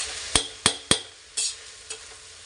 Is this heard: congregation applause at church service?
no